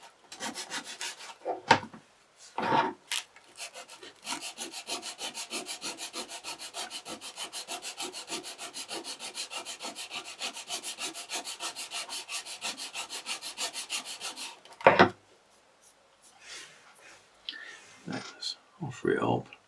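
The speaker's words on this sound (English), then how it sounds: "just using a little sanding block, slightly angle it around about 5 degrees and just put a chamfer on each side" A small sanding block rubs a chamfer along wooden planking for a 1:200 Prinz Eugen model ship, a fast, even back-and-forth scratching held for about ten seconds, with brief knocks and quiet talk before and after.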